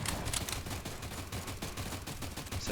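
Gunfire in the post-apocalyptic survival shooter Stalcraft X, a dense, continuous crackle of shots heard from a distance, with no talk over it.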